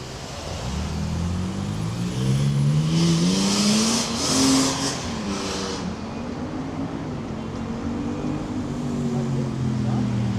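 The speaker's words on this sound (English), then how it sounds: "I'm going to face the cars that will hit me." Cars passing on a Los Angeles city street near Echo Park, a steady loud roar of engines and tires with rising and falling pitch as vehicles go by, including one louder pass midway.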